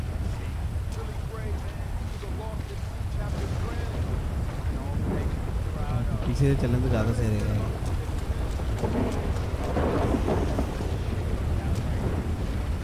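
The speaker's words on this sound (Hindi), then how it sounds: "एक तो एक तूफान की आवाज़ आ रही है ना" Stormy weather in GTA V, a steady roar of wind and rain with low rumbling swells running throughout, while players talk over it.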